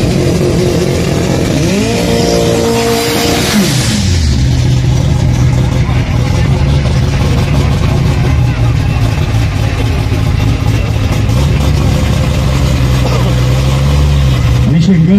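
A Chevrolet Opala race car with a new engine setup revs at an Interlagos track event, a loud droning engine rising sharply then settling into a steady rumbling idle with a brief second rev, under crowd ambience.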